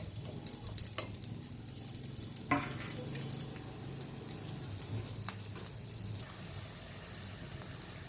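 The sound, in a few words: onion frying in a pan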